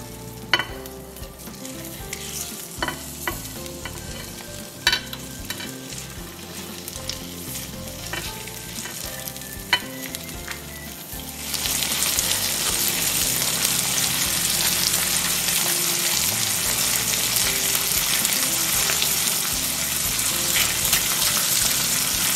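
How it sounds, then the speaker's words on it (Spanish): Head-on shrimp frying in chorizo butter in a pan, with soft clinks and stirring at first, then a loud, steady sizzle that swells and holds close by. "vamos a cocinar los camarones más o menos 30 segundos hasta que los camarones comienzan a cambiar de color"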